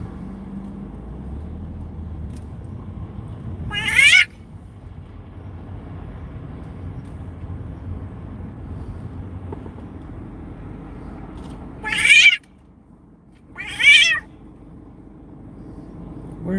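Cat yowling and caterwauling outdoors at night, three short loud cries (one alone, then two close together) over steady low road and wind rumble.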